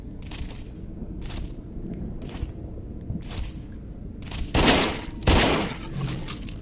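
Gunfire in The Walker, a PSVR video game: separate sharp shots spaced irregularly over a low background hum, with two louder, heavier blasts near the end.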